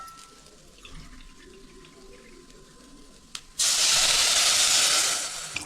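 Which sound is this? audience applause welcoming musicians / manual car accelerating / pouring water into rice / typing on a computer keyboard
pouring water into rice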